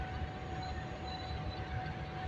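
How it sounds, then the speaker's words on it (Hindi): The Shah Latif Express rolls through Drigh Road railway station, a steady, distant, broadband rumble of the moving train with a faint sustained tone above it, continuous and without voices. "शाह लतीफ़ एक्सप्रेस यहाँ से गुजर गई है।"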